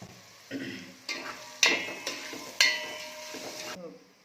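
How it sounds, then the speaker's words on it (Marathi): Onion with salt sautés and is stirred in a pan for a masala rice dish, a soft sizzle under a series of sharp metallic clinks and scrapes from the spoon against the pan, fairly close and quiet. "म्हणजे आपला कांदा जो आहे ना हा लवकर परतून निघतो."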